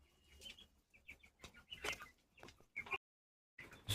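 Chickens and chicks cluck and chirp in short irregular bursts as hens peck at the young, fairly close and moderately loud, with a brief silent gap before the calls resume.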